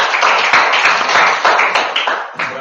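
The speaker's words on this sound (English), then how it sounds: "Come up and give him a round of applause." Dense, steady applause from a crowd, a continuous wash of many hands clapping together, fairly loud and sustained throughout.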